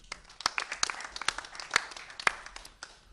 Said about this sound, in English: Small round of applause, please.